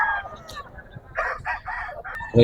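A rooster at a Philippine market selling quality fighting chickens crows several times in loud, rising and falling bursts, with faint crowd murmur and other birds beneath.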